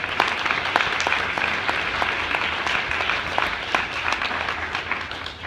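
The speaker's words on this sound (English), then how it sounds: "I think you can give them a round of applause, even mid-speech." A crowd claps steadily throughout, a dense, even wash of applause from a large audience at an elementary school speech.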